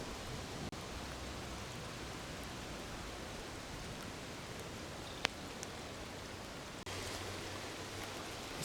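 Steady rain falling outside on an autumn day in Canada, a dense even hiss of drops throughout with no voices, broken only by a couple of faint clicks.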